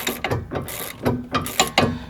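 Ratchet wrench clicking in quick repeated strokes while tightening the rear sway bar link on a 2004-2008 Pontiac Grand Prix, close and crisp with no talking.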